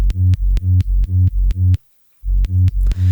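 A synth bass line built from a sine wave and squashed with OTT compression pulses in short, punchy, evenly spaced notes, breaks for a brief silence, then resumes the same bouncy pattern, loud and alone.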